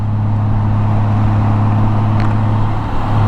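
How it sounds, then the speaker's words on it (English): Honda Goldwing with DCT transmission cruising on the road, a steady loud low engine drone mixed with wind rush, continuous and even from the rider's seat. "I'm just out here cruising on this DCT Honda Goldwing"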